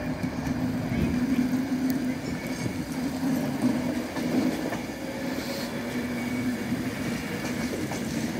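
Class 390 electric train departing Manchester Piccadilly for London Euston, a steady rumble with a sustained low traction hum and faint rail clatter, heard at moderate distance in a station setting.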